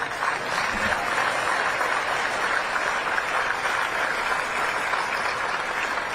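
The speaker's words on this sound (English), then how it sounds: "You can clap for that." An audience at the 2024 West Point commencement applauds steadily, a dense even wash of clapping that holds at a moderate distance for several seconds with no voices over it.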